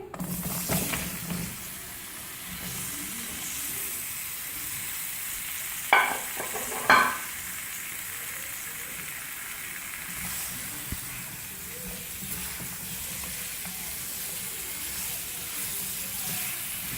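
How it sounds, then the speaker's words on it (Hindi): Steady, soft sizzling of potatoes frying in hot oil, with a couple of brief clinks of a utensil stirring the pan. "इसको हम तेज़ आंच पे फ्राई करेंगे आलूओं को।"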